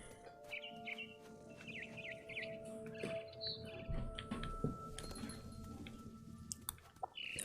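Bird chirping in the video game What Remains of Edith Finch, repeated quick high tweets in short bursts over a steady ambient hum, mixed with scattered clicks and soft rustling noises.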